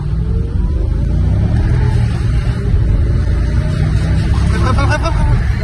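A Mercedes S55 AMG accelerates with a dense, loud low rumble building steadily, heard from inside the car over continuous engine noise.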